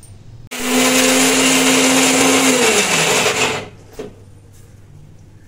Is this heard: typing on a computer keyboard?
no